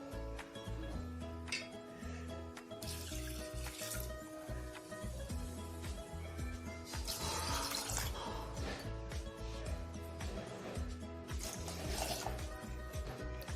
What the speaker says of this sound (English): Now add 3 tumbler of water.